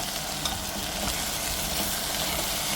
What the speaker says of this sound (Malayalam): മൂക്കട്ടെ അഞ്ച് മിനിറ്റ് നന്നായിട്ട് മസാലയൊക്കെ